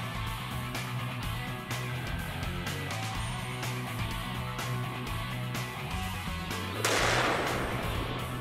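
Gunshots from a heavily recoiling firearm, a run of sharp reports spread across the stretch at moderate distance, with a louder burst of noise near the end.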